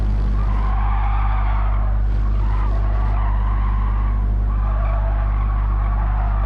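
Race car tires skidding and squealing under hard braking in Gran Turismo 7, a sustained loud screech riding over a constant heavy engine drone, close and unbroken throughout.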